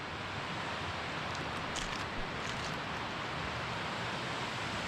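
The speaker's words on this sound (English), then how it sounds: "I don't know if you can still hear me because of the water." Rushing river water on a street in Cesky Krumlov, a steady broadband roar filling the whole clip at close range with no voices over it.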